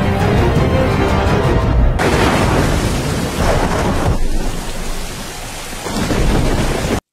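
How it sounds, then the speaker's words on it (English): Thunderstorm in a Game of Thrones episode: heavy rain pours steadily while loud rolling thunder rumbles and cracks, a dense, full wash of storm noise with no voices. "they got the storm going"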